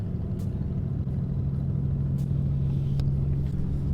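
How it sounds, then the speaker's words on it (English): An Aston Martin idles close by after pulling up, a steady low engine rumble with a strong hum running under a busy car meet where other supercars sit around. "Okay, got an Aston that pulled up. Sounds nice too."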